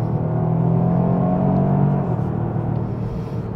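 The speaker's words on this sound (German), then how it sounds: "Man hört keinen Unterschied zum Verbrenner, auch in der Beschleunigung" A Toyota GR Yaris running on E-Fuel with an automatic gearbox accelerates, giving a steady, close engine rumble and whir that eases slightly toward the end.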